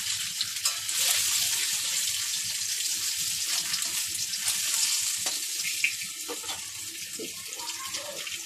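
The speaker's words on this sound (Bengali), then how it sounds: "তেলের মধ্যে হলুদ দিয়ে ডিম ভাজলে কালারটাও ভালো আসে" Eggs frying in hot oil with turmeric in a pan, giving a continuous bright sizzling crackle with a few sharper pops, close and steady throughout, without talk.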